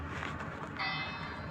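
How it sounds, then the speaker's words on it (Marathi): A bell rings faintly in a video game, starting partway through as a sustained ringing tone over a steady hiss of background noise. "अला घंटी का बजना"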